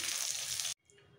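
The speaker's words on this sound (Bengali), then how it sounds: "এই মাছগুলো ভাজা হয়ে গেছে, এবার বাকি মাছগুলো ভেজে নেবো।" Rohu fish pieces fry in hot oil, giving a loud, dense close sizzle that cuts off abruptly partway through and leaves a quiet room with faint clinks.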